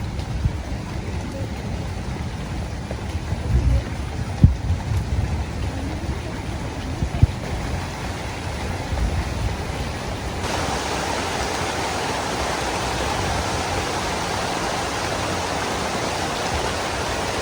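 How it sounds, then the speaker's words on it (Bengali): Sudden rain falls outdoors beside a village pond, a steady broadband hiss that thickens and grows louder partway through and then continues as a constant wash, with a few faint knocks earlier. "হঠাৎ করে বৃষ্টি শুরু হয়ে গেছে"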